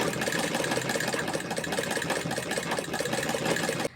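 A sewing machine stitches the back neck of a blouse, running continuously with a fast, steady mechanical whir and rhythmic ticking, close and fairly loud, stopping abruptly at the end.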